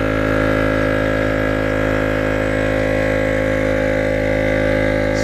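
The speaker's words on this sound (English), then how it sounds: "We're going to turn the pump off and then back on" An EP Auto portable tire air pump runs continuously while inflating a car tire, a loud, steady mechanical hum and buzz with no pauses and no talking.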